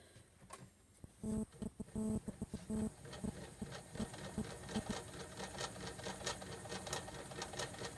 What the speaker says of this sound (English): a bit noisy, this wheel, at the moment because I haven't used it for a bit